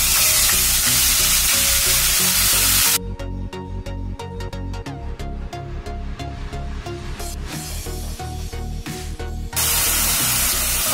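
Onion, ginger and green chili paste hits hot oil seasoned with asafoetida and cumin, bursting into a loud sizzle that eases into steady crackling with rapid stirring taps, then swells again near the end.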